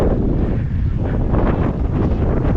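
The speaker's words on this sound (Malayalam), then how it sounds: "നല്ല കാറ്റുണ്ട്, മനോഹരമായിട്ടുള്ള കാറ്റുണ്ട്" Strong wind on a hilltop near a Tamil Nadu temple buffets the microphone in a continuous, loud roar with gusty surges and no voices.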